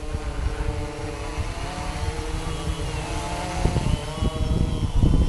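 DJI Phantom 2 V2 quadcopter drone fitted with new motors, flying outdoors in cold, windy weather, gives a steady, close buzzing whine of spinning rotors with harmonic tones, swelling a little louder toward the end, with no talk.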